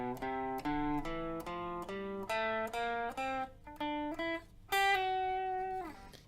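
A distorted electric guitar plays a slow ascending chorus riff, close to a scale run: about a dozen sustained picked notes climbing step by step, each ringing briefly before the next, alone and close.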